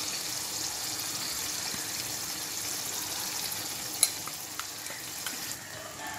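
Koduva fish, barramundi, frying in a home kitchen pan: a steady, even sizzle with bright hiss, lasting throughout, plus a sharp tap near the end and a few faint clinks after it, with no voices.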